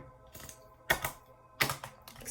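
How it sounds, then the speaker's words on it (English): Playing cards being shuffled by hand, two sharp riffling bursts with softer card rustles between, close and fairly quiet with no talk. "I'm just shuffling again on camera"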